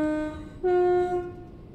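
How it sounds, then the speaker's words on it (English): A train horn sounds at a station in two loud, steady harmonic blasts, a short one followed by a longer one after a brief gap, with faint rumble of rail noise beneath and no talking. "The horn?"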